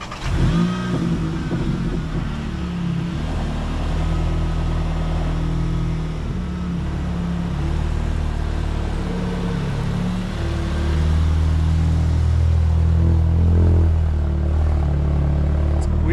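A car drives along to bed in new brake pads after a big brake upgrade, a steady engine hum and road rumble, the engine swelling slightly toward the end, heard from inside.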